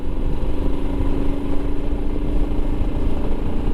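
A Royal Enfield Himalayan motorcycle overtaking uphill, heard as a loud, steady engine drone with rushing wind that stays constant, close by, throughout.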